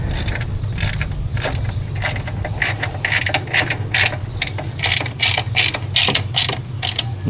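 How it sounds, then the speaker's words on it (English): A small ratchet clicks in quick bursts while snugging bolts on the plastic mixer housing of a Generac generator, its sharp close ratcheting rising louder toward the end. "Now with the smaller ratchet set, get these bolts tightened down"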